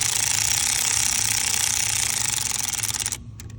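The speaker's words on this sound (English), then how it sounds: "If you have a power ratchet," A power ratchet whirs steadily on the EGR valve bolts of a Mercedes Sprinter V6 diesel. It drives close and loud for about three seconds, then stops with a few faint clicks.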